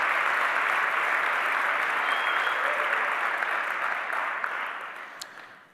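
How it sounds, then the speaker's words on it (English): Conference audience applauding newly introduced county supervisors, a full sustained round of clapping that holds steady and then tapers off toward the end. "Round of applause for these individuals."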